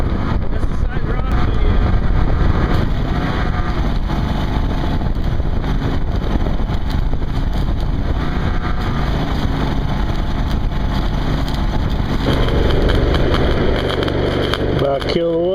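Engine-driven welder running steadily beside side-rod hardfacing work, a loud continuous broadband drone with wind buffeting, a change in tone near the end as it is shut down; no words are spoken.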